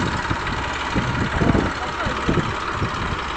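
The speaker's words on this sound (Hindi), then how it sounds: "साइलेंसर लग चुका है ट्रैक्टर की आवाज़ चेक करना आप।" A Massey Ferguson 1035 tractor engine with its silencer fitted idles close by with a muffled, chugging low rumble and uneven rhythmic pulses, fairly loud and steady.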